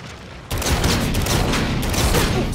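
Dense, continuous automatic gunfire from the Call of Duty Infinite Warfare Zombies in Spaceland game, erupting abruptly after a quieter half-second and staying loud as a sustained rattling barrage.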